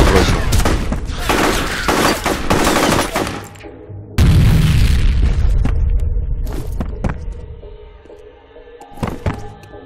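Heavy explosions and rapid gunfire fill a combat scene in the shooter F.E.A.R., with a dense barrage over the first seconds, a loud grenade blast near the middle, then the rumble decaying into scattered shots.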